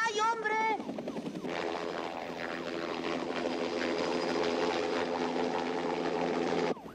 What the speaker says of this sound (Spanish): ¿cómo se va a quedar parado el helicóptero en el aire?